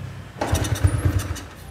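A small Japanese two-stroke motorbike, an Ex-style model, starting up close, with a brief cranking catch followed by a choppy, sputtering idle.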